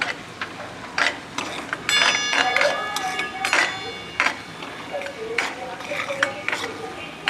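Semolina (rava) roasts in hot ghee while a spoon stirs it, giving irregular scraping and clinking strokes against the pan. A voice talks over part of it.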